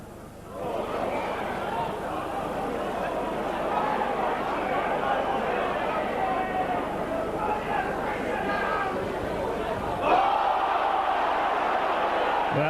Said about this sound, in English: Well, the crowd didn't like that one.